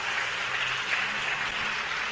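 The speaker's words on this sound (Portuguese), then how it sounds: "Vamos aplaudir bem forte." A church congregation claps hard for God at an afternoon Portuguese-language service, a steady, dense wash of applause holding at even loudness throughout, with no voices heard over it.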